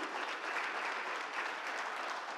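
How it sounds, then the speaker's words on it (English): Audience members at a business talk in Bengaluru clap together for guests who travelled from other cities, a dense, even burst of applause that stays steady throughout. "let's give a clap to people who have come all the way from different cities"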